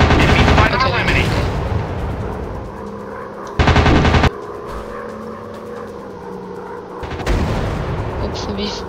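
Rapid aircraft machine-gun bursts from fighter planes in the Warplanes video game, heavy chattering volleys at the start, middle and end, with engine drone between them.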